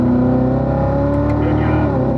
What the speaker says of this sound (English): And then pick up that throttle smoothly on the exit.